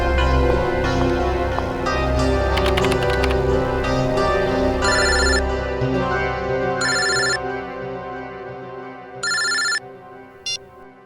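A telephone rings in short repeated electronic bursts, three loud rings spaced a couple of seconds apart over background music, then a brief clipped fourth ring as the line goes quiet.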